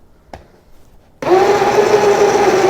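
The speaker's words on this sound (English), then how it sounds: "So 2 onions blended right here" A blender blending two onions with eight cloves of garlic starts up abruptly after a short quiet stretch and runs loudly and steadily, a high motor whine over churning, with a small knock just before.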